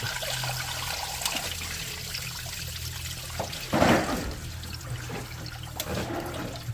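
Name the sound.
antifreeze leaking out of a 1998 Honda CR-V thermostat housing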